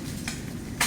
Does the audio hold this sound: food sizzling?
yes